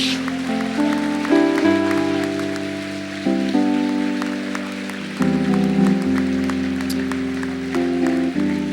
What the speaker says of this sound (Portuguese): Eu acho que você poderia já ter aplaudido ao Senhor esta noite.